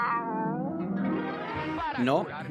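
A singing voice imitates a cat's meow in a Spanish song, a drawn-out wavering meow sung over a musical backing, followed by a second rising, yowling meow.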